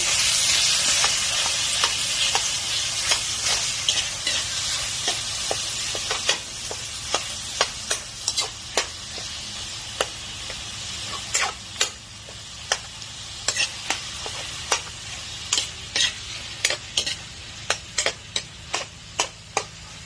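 Malunggay dish cooking in a covered pan, a steady hissing sizzle with regular sharp clicks and taps from stirring that grow more distinct toward the end.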